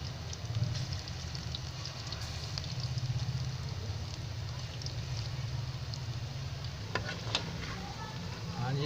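Small kadhi pakoras fry in hot oil, a continuous close sizzle and bubbling with occasional stirring and scraping clinks toward the end, no talking.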